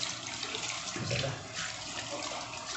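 Water runs steadily from a tap, a close, continuous splashing rush with no pauses.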